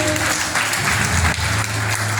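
Loud audience applause at an anniversary celebration honouring Dr. Srinivasan, a thick continuous burst of clapping close to the microphone with a steady low hum under it.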